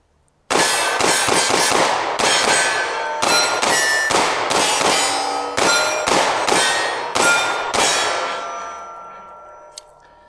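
A rapid string of loud, sharp pistol shots from a Sig P365 fired one after another, a full magazine of about a dozen cracks with ringing echoes, the last shot trailing off into a fading ring.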